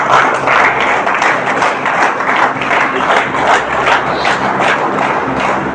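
A crowd applauding a winning team, loud dense clapping that holds steady throughout at close range, with no voices rising above it.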